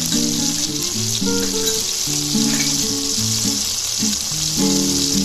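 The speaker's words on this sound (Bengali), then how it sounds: "জাস্ট টমেটোর কাঁচা গন্ধটা যাওয়ার জন্য একটু ভেজে নেবো, বেশি ভাজবো না" Tomatoes with turmeric powder fry in a pan for a vegetarian okra dish, giving a steady, close sizzle that runs the whole time, with a layer of background music over the top and no voices.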